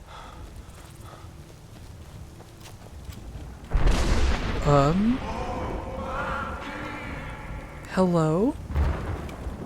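In the video game Skyrim, a deep rumbling boom of thunder rolls in over steady rain-like ambience, with voices speaking and a drawn-out, wavering roar-like call sounding around it.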